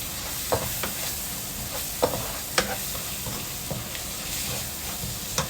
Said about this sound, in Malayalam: ഇനി നമ്മൾ നന്നായിട്ടൊന്ന് ഇളക്കാം.